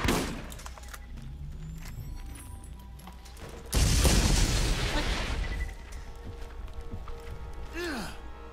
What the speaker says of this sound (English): Who's shooting giant rocket launchers? Are they like throwing grenades at me